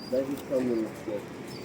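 Pigeons coo softly in a few short, low murmuring bursts close by, with a faint high chirp now and then.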